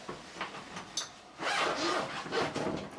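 A guitar case zipper being pulled open on a Fender Standard Stratocaster case, a few short scratchy rubs followed by one longer, louder rasping zip, close up and without speech.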